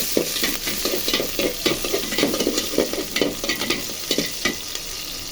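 Onion and green chili frying in a pan, loud close sizzling broken by a quick, regular run of spatula stirring strokes scraping the pan, with no voices.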